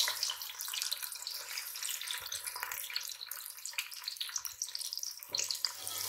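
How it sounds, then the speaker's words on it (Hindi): Two large onions sizzling in hot oil in a pan, a steady crackling hiss with a soft low hum beneath, fairly quiet and continuous with no voices. "हमने इसके अंदर 2 बड़े प्याज ऐड कर दिए हैं और हम इनको गोल्डन ब्राउन होने तक वेट करेंगे।"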